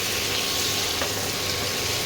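Mutton frying in ghee with Kashmiri chili powder, a steady close hiss and sizzle running evenly without pause, with no talk over it.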